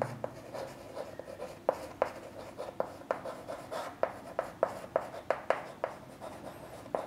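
A pen or chalk writes an answer in a math lesson on ordering fractions, producing a run of short, sharp taps and scratches at an uneven rhythm, close and alone.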